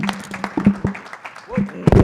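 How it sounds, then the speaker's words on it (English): An audience at a college of auctioneering student auction claps in a brief, uneven burst of scattered hand claps, close and fairly loud, with voices talking over it. "How about a round of applause for Merv Hillpiper?"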